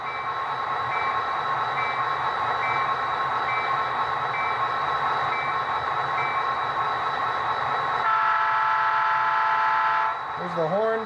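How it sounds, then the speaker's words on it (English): A model GP40P-2 locomotive's Tsunami 2 sound decoder gives a steady rumbling engine hum throughout, then a loud horn blast near the end, followed by a brief tonal chirp. "There's the horn."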